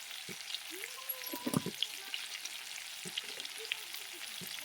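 Potatoes frying in a pan of oil with a steady, close sizzle and a few soft stirring knocks and scrapes, no voices.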